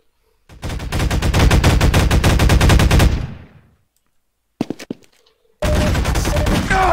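Gunfire in a Half-Life 2 Deathmatch match: a loud, rapid automatic burst lasting a few seconds, then silence, a couple of isolated sharp shots, and another sustained close-range burst.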